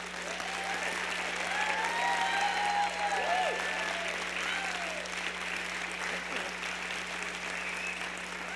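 Sustained audience applause filling a hall after a scholarly presentation, dense steady clapping from a crowd at moderate loudness, continuing evenly with no talk over it.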